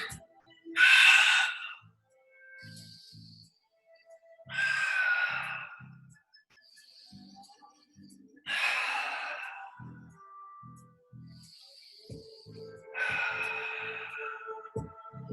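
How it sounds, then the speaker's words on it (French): Pilates breathing during an exercise class: four strong, airy breaths in and out, spaced a few seconds apart, with soft movement and quiet voiced sounds in the gaps. "Je reviens, j'inspire et j'expire."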